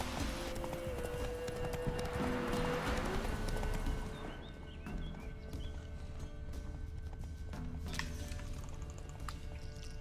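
Horse hooves clip-clopping at a galloping pace in The Witcher 3, a steady rhythmic beat set within layered game music and ambience, no talking.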